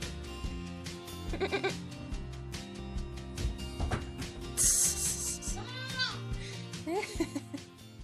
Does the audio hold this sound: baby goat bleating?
yes